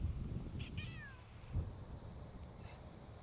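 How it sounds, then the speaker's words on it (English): Outdoors, a faint cat-like meow sounds twice in quick succession, short wavering cries over low wind rumble, with a softer third call a moment later. "Sound like a damn cat"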